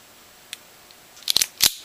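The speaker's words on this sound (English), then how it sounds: "basically rips the 2 apart, causing you to cut off the insulation" A wire stripper snips off wire insulation in a few short, sharp clicks close by, the loudest two near the end, with no one talking.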